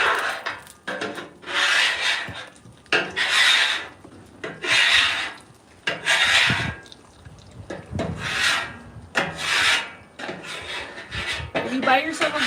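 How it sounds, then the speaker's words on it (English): Cleaning tools scrub oil off a griddle after cooking bacon, in loud, close, rhythmic strokes that come in repeated bursts with short pauses between them. "we're gonna scrub these oils one more time"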